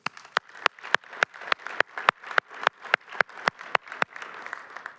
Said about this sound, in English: So please join me in a round of applause for our committee and for all of our volunteers.